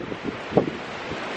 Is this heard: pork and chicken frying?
no